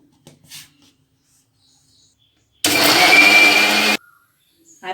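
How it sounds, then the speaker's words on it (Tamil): A kitchen mixer grinder blends mint chutney with onion, tomato, salt and a little water in its jar. It gives one loud, whirring burst lasting just over a second, with quiet moments before and after. "ஆறின பிறகு மிக்சி ஜாரில் போட்டுக்குங்க."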